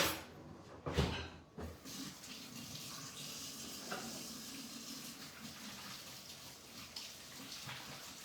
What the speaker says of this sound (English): just had to wash my hands there